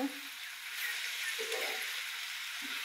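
Red amaranth greens fry in a pan, a soft steady sizzle broken by short stirring scrapes, close and moderately quiet.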